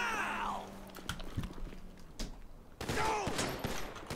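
Gunfire from the GTA V LSPDFR police mod, a series of sharp shots and bursts scattered through a busy game mix with engine and background noise.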